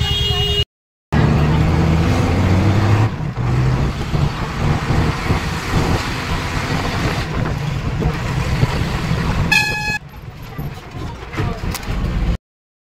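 An open-sided bus on the road to Bakreshwar in Birbhum, with a steady low engine rumble and wind noise running throughout, and a brief break near the start.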